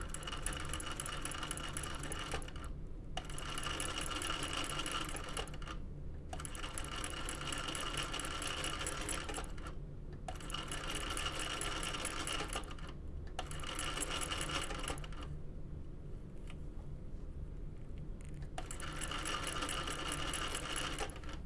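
Sewing machine back stitching the open edge of a Baby Belle bucket bag, running in steady bursts of rapid needle clatter with short pauses between runs and a longer gap near the end.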